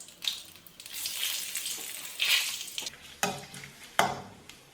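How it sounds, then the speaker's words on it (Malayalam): Curry leaves and cut dried red chillies sizzle in hot oil in a pan while a taro leaf stir-fry is being made. The frying crackles close by, with sharper spits and pops when the ingredients hit the oil, and no one speaks. "ഇനി ഇതിലേക്ക് കറിവേപ്പില ഇട്ട് കൊടുക്കാം. പിന്നെ വറ്റൽ മുളക് മുറിച്ചിട്ട് കൊടുക്കാം."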